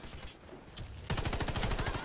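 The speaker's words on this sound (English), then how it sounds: "I wanted to just shoot there for no reason." An M4A1 Classic rifle fires in Warface played on PS5: rapid automatic bursts of loud, close, evenly spaced shots that start abruptly and drown out the quieter game sounds before them.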